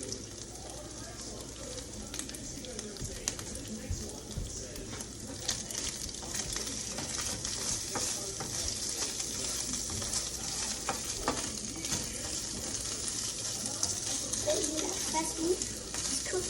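Meat fries and is stirred in a pan alongside onions and peppers, a continuous crackling sizzle with occasional scraping stirs, while people talk over it.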